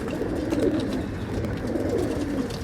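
Pigeons cooing steadily at a pigeon sale in Bangalore, several birds' soft, throaty coos overlapping continuously and close by, with no talk.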